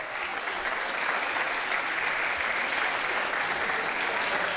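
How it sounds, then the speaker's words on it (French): Steady, dense applause from an audience at a regional beauty-queen election, cheering the candidates after their group choreography, even and sustained throughout with no voices over it. "On peut encore les applaudir bien fort."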